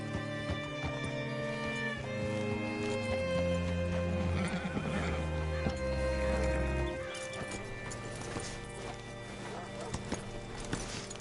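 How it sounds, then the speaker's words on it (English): Horse neighs in Red Dead Redemption at a hitching spot, whinnies and clip-clopping hooves rising over a steady bed of game music, with voices talking nearby. "Hitch your horse up here."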